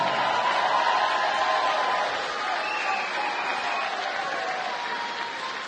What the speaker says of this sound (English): A round of applause for these two fighters.